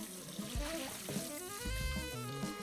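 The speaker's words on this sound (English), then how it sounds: "Now let's drain that dirty water and give the basket a rinse with clean one." Dirty water sloshes and drains out of an air fryer basket into a sink, a steady close gurgling pour with splashy surges, heard alone.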